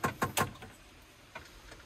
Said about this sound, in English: Mechanical clicky noise.